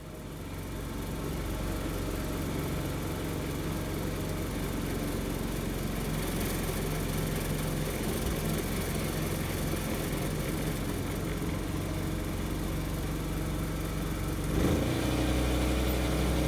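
Gasoline engine of a gas-electric hybrid golf cart running steadily at 3,600 RPM, a continuous mid-pitched mechanical drone held evenly, with a brief louder surge near the end.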